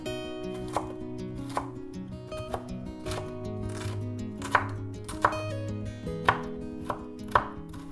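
A knife chops vegetables on a cutting board for veg fried rice, landing as a series of crisp, close taps in an uneven rhythm over a steady musical backing, with no talking.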